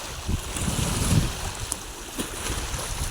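Nayka Dam overflows during rainy weather, producing a steady, loud broadband rush of spilling water mixed with gusty wind buffeting, and no voices.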